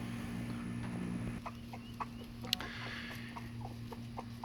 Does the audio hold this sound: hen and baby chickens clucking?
yes